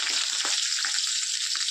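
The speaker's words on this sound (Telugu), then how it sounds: "చిట్టపట్లు ఆడుతున్నాయి" Spices tempering in hot oil with onions and green chillies, spluttering and sizzling in a pan while a potato and tomato curry is being cooked; a steady, close crackle with small pops throughout.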